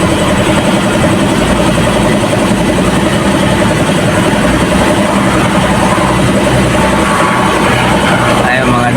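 A Toyota Vios dual VVT-i engine idles steadily while warming up after its battery was disconnected, a continuous close mechanical hum with faint rattling.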